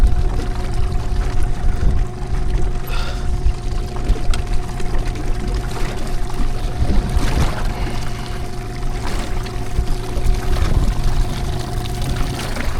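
Outboard motor on a fishing boat running in reverse against a strong current, a steady low drone with water wash and wind noise throughout, no talking.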